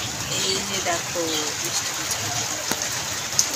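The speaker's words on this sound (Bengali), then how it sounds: "ওই যে বৃষ্টি স্টার্ট হয়ে গেছে" Heavy rain begins pouring outside, a steady broadband hiss of drops on surfaces throughout, with a voice speaking over it and faint bird chirps in the background.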